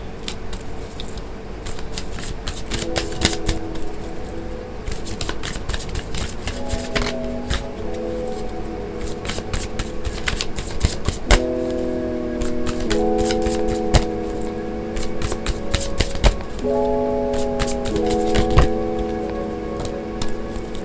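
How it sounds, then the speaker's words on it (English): A tarot card deck is shuffled in crisp bursts of riffling and snapping clicks, close and sharp, over a soft backdrop of sustained musical tones. "It's funny how every deck sounds different shuffled."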